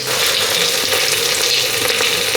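Sliced onions with salt and turmeric frying in a pan, a loud, dense, continuous sizzle close up with faint stirring scrapes throughout and no talking.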